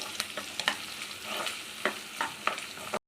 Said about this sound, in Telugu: దీంట్లోనే కొంచెం కరివేపాకు వేసుకొని ఫ్రై చేసుకోవాలి.